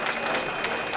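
A packed auditorium at Radio Pakistan Karachi, during Diamond Jubilee celebrations, bursts into brief, dense applause as a singer is welcomed onstage, many hands clapping together without speech.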